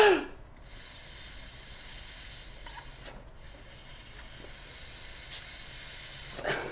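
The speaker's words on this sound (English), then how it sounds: "Maybe you can hear the air coming out." Steady hiss of air escaping from an inflated ball, a continuous close airy rush lasting several seconds, broken by two brief pauses.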